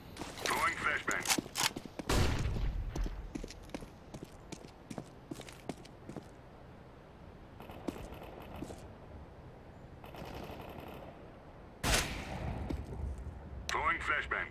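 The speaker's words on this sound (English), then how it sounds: "Throwing flashbang." In Counter-Strike: Global Offensive, a flashbang is thrown amid gameplay. Sharp, loud bursts land near the start and again around the twelfth second, with scattered clicks, footsteps and gunfire-like cracks between them.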